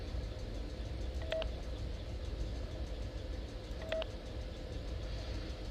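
Two brief electronic keypad tones from the video game Five Nights at Freddy's: Sister Location, a couple of seconds apart over a steady low hum, with no talking.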